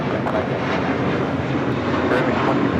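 A large airliner at Los Angeles International Airport roars steadily and loudly throughout, a dense sustained engine rumble with no pauses.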